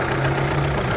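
An Opel Astra engine idling just after starting, a steady, close, mid-pitched hum with a faint knocking pulse, brief and alone.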